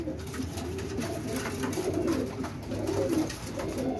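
Pigeons coo in low, soft, repeated throaty calls that overlap at close range over a steady background murmur, with no clear speech.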